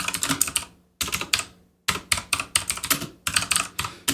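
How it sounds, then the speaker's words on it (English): Rapid bursts of keystrokes clatter on a computer keyboard, separated by brief pauses, close and crisp. "now you can start typing your description"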